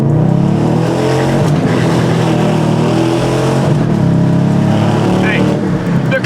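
A stock Dodge Challenger R/T runs flat out through quick gear changes, its loud, close engine roar climbing and then dropping briefly at each shift, with a short tire chirp near the end.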